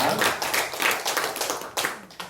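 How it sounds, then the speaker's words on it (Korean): A church congregation at a Sunday worship service claps together, a steady dense burst of many hands close by, filling the whole moment without speech. "우리 하나님께 영광의 박수 드리겠습니다."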